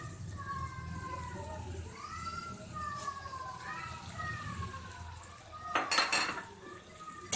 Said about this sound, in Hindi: इसको कांटों की मदद से मिक्स कर लेंगे अच्छी तरीके से